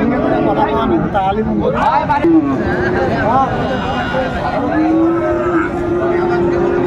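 Repeated moos from Friesian bull calves rise over a crowded cattle market in Dinajpur, a strong drawn-out call near the end, with someone speaking and general market babble throughout.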